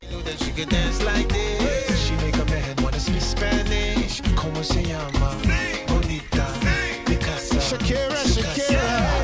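A DJ flicks one track in at full volume over another while turning the other track down: dense, loud club mix of pop tracks with heavy bass, drums and vocals blending continuously.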